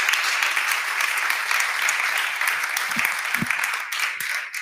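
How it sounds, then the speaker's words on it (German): An audience at an evening innovation awards event claps in sustained, dense applause that stays steady and then starts to fade toward the end. "Einen großen Applaus."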